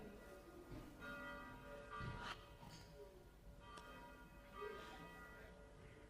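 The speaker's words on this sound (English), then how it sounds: "Let's wait until the bells stop." Church bells ringing outdoors, faint and distant with sustained resonant tones, heard under a low hum with a few voices murmuring nearby.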